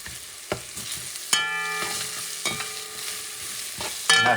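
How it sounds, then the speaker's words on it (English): A spoon mixes tomato paste into a caldero pot for Puerto Rican sausage soup. There are several distinct stirring strokes that scrape and ring against the pot, spaced about a second apart, over a faint sizzle. "And you're going to mix everything together."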